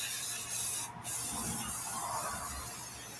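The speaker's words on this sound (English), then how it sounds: "the way you were spraying that is coming straight to our faces" Cooking fat spray hisses from an aerosol can into a pan for cauliflower nachos, a steady broadband spray running most of the few seconds with a brief pause near the start, close and fairly loud.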